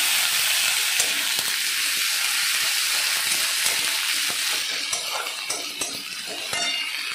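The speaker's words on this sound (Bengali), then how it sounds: "চলো, পেঁয়াজটা একটু ভাজা ভাজা হয়ে গেছে" Onion and ginger frying in hot oil in a pan for a rohu fish curry, giving a loud, steady broadband sizzle throughout with occasional crackles and stirring scrapes, no voices.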